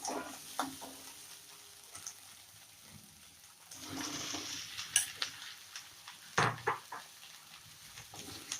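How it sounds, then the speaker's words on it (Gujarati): Okra goes into a pan of spiced curry base with red chili for masala dahi bhindi and is stirred. Quiet sizzling is broken by sharp scrapes and clinks of the spoon against the pan, with no talking. "હવે આપણે એમાં ભીંડા એડ કરી દઈશું."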